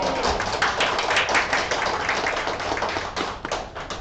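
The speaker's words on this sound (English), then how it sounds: "I work for nothing but your hand claps" A seminar audience breaks into dense, steady applause, many hands clapping together at close range for the whole stretch with no pause.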